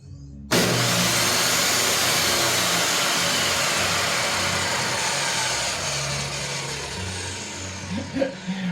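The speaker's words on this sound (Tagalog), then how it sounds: "gaya nitong table saw. Ito, pag umandar ito, nakakatakot ang start-up nito." A large workshop table saw motor starts abruptly with a hard kick and then runs at a loud, steady whine, with faint knocks near the end.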